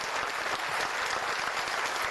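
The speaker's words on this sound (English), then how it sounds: "please give them a round of applause" Applause from the audience at a mayor's diversity awards celebration in Indianapolis, a dense burst of many hands clapping evenly for about two seconds, loud and close.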